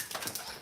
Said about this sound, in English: No, that was a dog.